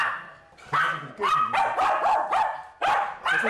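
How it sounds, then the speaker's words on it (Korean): A Spitz dog barks loudly and repeatedly at visitors arriving at the home, giving close, sharp, insistent barks in quick runs with brief pauses. "제작진 방문에 목청껏 짖는 녀석."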